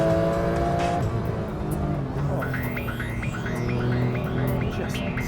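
A Singer-built Porsche 911 on worn Michelin Sport tyres drives hard, its engine note rising and shifting through gears with a loud, steady mechanical roar close by, no voices over it.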